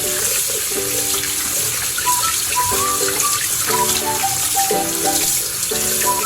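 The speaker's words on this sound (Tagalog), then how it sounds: "pagkatapos banlawan ito ng malamig na tubig." Cold tap water runs steadily over seaweed being rinsed for a guso (agar-agar) salad, a continuous splashing stream under a background of music.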